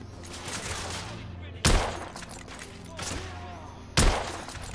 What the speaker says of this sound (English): God. I'm under heavy fire.